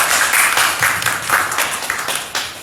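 A small audience claps after a scholarly talk on colonial history at a conference panel, a short patter of individual hand claps, fairly close and uneven, tapering off.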